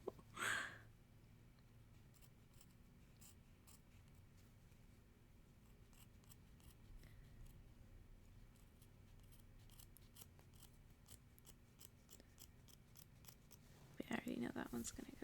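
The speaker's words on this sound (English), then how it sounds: "I cut farther than I meant for it to, though" Scissors snip through material in a quiet room, a long run of soft, close cutting clicks with a few louder handling rustles at the start and end.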